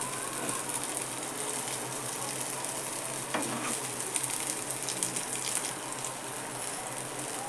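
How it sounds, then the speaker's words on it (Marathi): Sweet corn cutlet shallow-frying in a pan over low gas heat, a steady soft sizzle with light crackle running throughout, close and even, with no voices. "छान दुसरी बाजू पण भाजून घ्यायची बारीक गॅसवर"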